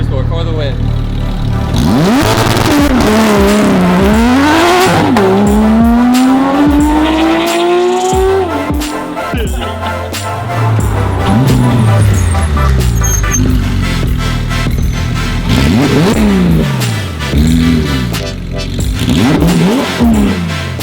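A Porsche 991 GT3 RS with an aftermarket F1-style exhaust revs hard and loud, pitch climbing and falling through repeated bursts of acceleration, with exhaust roar throughout.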